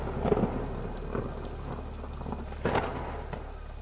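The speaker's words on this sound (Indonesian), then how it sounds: "Ada gerimis, hujan yang sangat mengganggu ketenangan mereka." Steady rain and drizzle pour around a tent on a windy night, a dense continuous hiss with a few heavier gusty swells, one stronger surge near the end; no voices.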